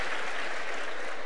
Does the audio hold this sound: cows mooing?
no